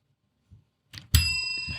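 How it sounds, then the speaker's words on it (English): A notification bell sound effect rings once, a bright clear ding that sustains and slowly fades, preceded by a couple of soft clicks and otherwise silence. "the notification bell."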